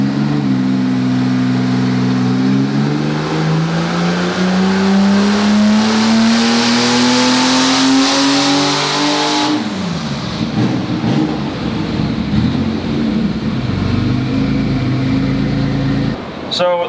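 A single-rotor rotary engine in a Mazda speedster revs steadily upward in pitch on a dyno for several seconds, loud and close, then drops off abruptly into rough idling and mechanical noise.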